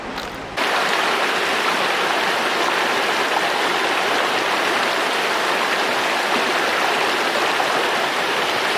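River water rushes along in the Grand Canyon, a loud, steady broadband wash of flowing water that starts abruptly and continues unbroken, close and with no voices.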